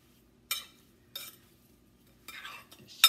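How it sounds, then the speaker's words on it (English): A big spoon stirs sugar into a bowl of strawberries, making four separate scraping, clinking strokes against the dish with quiet pauses between, the last one sharpest. "See that sugar? I'm going to stir it around."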